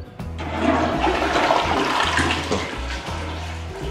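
Toilet flushing in a furnished show house bathroom, a loud steady rush and gurgle of water that holds for several seconds close by, with no talking.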